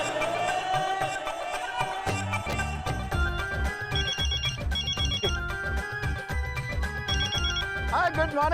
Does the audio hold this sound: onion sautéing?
no